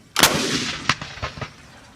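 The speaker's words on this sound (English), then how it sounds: "real gunpowder in a real shell in a Second World War Canadian artillery piece. Number 1, fire!" A single deafening blast from a Second World War QF 25-pounder artillery gun firing a real gunpowder shell, followed by rolling echoes that bounce back and fade over the next second.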